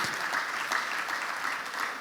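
An audience applauds at a launch of social initiatives in Nigeria, dense, sustained clapping from many hands filling the whole moment.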